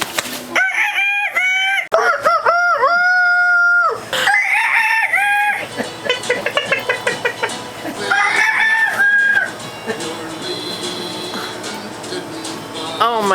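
A person imitates a chicken with a run of loud, close squawks and crowing-like calls, followed by a stretch of shorter clucking sounds that grow quieter toward the end, with talking mixed in.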